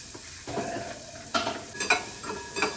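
Garlic and onion hitting hot oil give short bursts of sizzle with spoon stirring and scraping, fairly quiet and close, several distinct crackles in quick succession.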